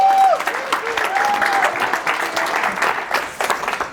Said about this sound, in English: Everybody, round of applause for Andrew.